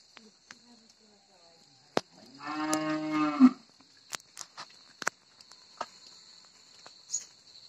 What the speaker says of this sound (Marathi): तर बघा, गाई वासरं पण हमरू लागली।